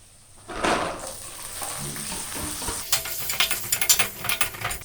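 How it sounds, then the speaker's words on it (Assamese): Green peas tipped into a pan of cooking potato egg curry, bringing a clattering, stirring rattle over a steady sizzle, with a run of quick scraping knocks toward the end. "এতিয়া মই ইয়াত মটৰখিনি আমাৰ এড কৰি দিওঁ"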